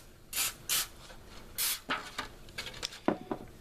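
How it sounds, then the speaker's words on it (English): Several short hissing bursts of cooking spray onto a pan, a few in quick succession, followed by light clicks and rubbing noises close by. "you will spray a very light coating or grease"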